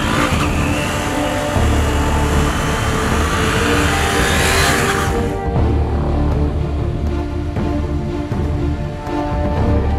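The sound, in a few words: KTM Duke 250 motorcycle engine revving on test ride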